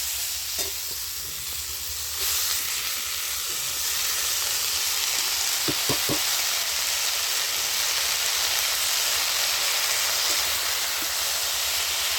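Drumstick flowers go into a pan of fried eggplant, and a steady close hiss and sizzle follows, with a few light taps and clinks of utensils.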